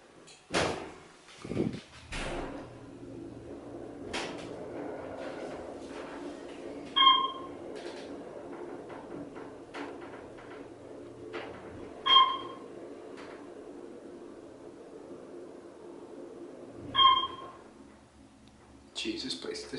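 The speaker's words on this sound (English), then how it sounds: "Door close when you push the button." Otis hydraulic elevator in a building on Seabrook Island, South Carolina, with its doors sliding and thudding shut and the car chiming three times at regular intervals, amid a low hum and a few voices.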